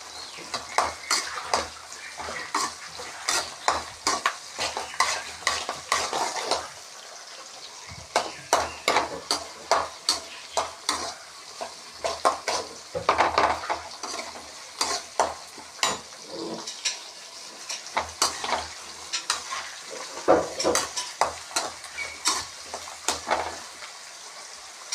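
Onion and garlic sautéing in oil in a pan while being stirred, steady sizzling with repeated scraping strokes of a spatula against the pan in an uneven rhythm, close and clear.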